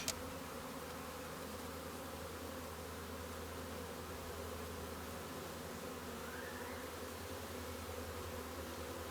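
Honeybees fanning and crawling down into hive frames, a faint continuous droning hum under steady background noise, with one brief rising whine partway through.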